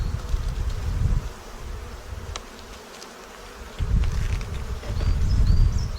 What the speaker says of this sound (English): I don't know if the queen is so good in this box, even though there's a lot of bees.